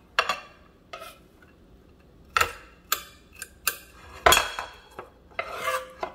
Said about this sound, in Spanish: Y así vamos a ir picando toda la cebolla.